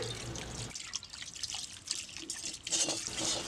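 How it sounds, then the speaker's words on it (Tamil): Water trickles and drips while a bronze pot is rinsed at a kitchen sink after scrubbing with tamarind and ash, a close, steady splashing with brief pauses and no talk. "இப்போ வெங்கல பாத்திரத்தை விளக்கிட்டேன் கழுவி காமிக்கிறேன்"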